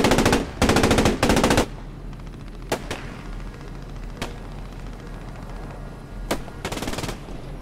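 Machine gun fire in the World War II shooter Post Scriptum during a Tiger tank battle: three loud, close rapid bursts, then scattered single shots and a final short burst over a low engine rumble.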